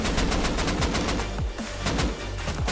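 An automated turret in the survival video game Rust fires rapid bursts of gunfire, loud and sustained with brief pauses.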